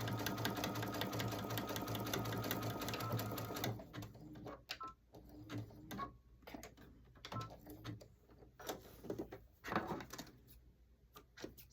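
A sewing machine stitching the seam of a basket made from a dish drying mat: a steady rapid mechanical whir for a few seconds, then stop-start bursts of stitching with short pauses in between.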